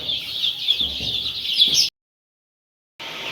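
A flock of desi country chicken chicks peeps and cheeps in a dense, high, continuous chorus, close by, cutting out briefly to silence before resuming.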